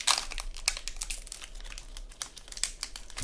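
Crinkling, tearing foil wrapper of a Magic: The Gathering x Spider-Man collector booster pack being opened by hand, close and fairly loud, a steady run of sharp crackles with a few louder rips and no talking.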